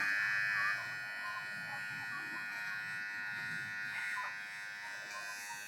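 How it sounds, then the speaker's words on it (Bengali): An electric hair trimmer buzzes steadily and close as it cuts a man's beard and mustache, a continuous whine with slight shifts as it moves over the face. "রজব নতুন মেশিনে তোর দাড়ি মুস কাটা অনুভূতি কেমন"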